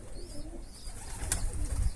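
Pigeons coo softly around a coop, low rolling calls close by with a brief flutter or sharp noise partway through.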